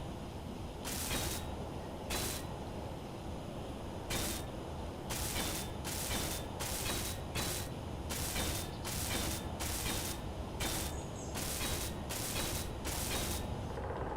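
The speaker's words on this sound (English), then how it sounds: "And away we weld." Welding in the Space Engineers video game, a steady mechanical grinding hum broken by repeated bursts of crackling, sputtering welder noise, loud and close, with no talking.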